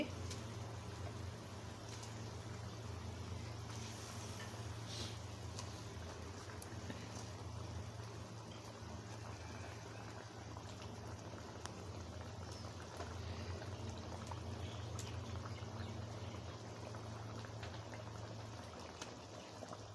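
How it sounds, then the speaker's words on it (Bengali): Water boiling in a pot before fish goes in for chitol fish curry, a steady low bubbling rumble that runs evenly throughout, fairly faint. "বন্ধুরা পানিটা ফুটে গেছে"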